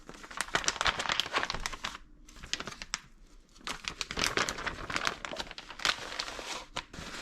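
Paper towels are crinkled and crumpled continuously up close, with crackling rustles that pause briefly before resuming.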